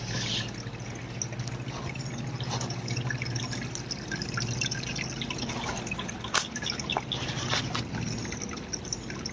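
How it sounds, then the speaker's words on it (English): Steady rushing of flowing water fills the scene, a continuous outdoor stream with a low waterfall roar and occasional splashes and drips. "You can hear the waterfalls and the stream flowing."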